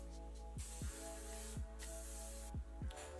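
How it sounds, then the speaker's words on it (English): Short bursts of sheen spray misted onto braided hair, three or four quick hissing sprays close by over a steady background hum, with no talking. "I will just add a little bit of sheen spray"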